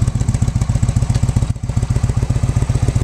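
Steady idle of a 2008 Yamaha Midnight Warrior, a 1700cc power cruiser with aftermarket pipes: a loud, close, lumpy pulsing rumble that holds even throughout, dipping once briefly midway.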